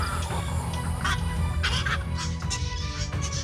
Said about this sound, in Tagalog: One of the sounds that you would hear is from the bahaw is yung kwak.